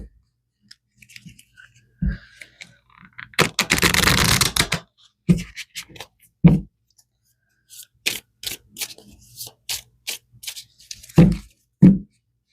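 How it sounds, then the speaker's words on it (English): Tarot cards are shuffled and pulled close by: a dense riffling burst in the middle, surrounded by sharp individual card snaps and taps spread irregularly across the clip. "We're going to pull some more cards to see where we're going with this."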